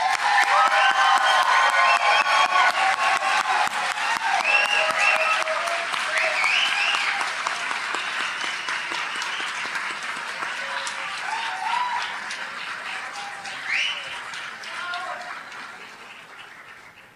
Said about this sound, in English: Let us all give our students a round of applause.